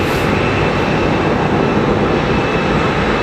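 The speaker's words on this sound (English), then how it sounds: "So that's a CFM-powered example of the 321" A JetBlue Airbus A321 long range with CFM engines gives a loud, close, continuous jet roar at Heathrow, dense and unbroken for the whole stretch.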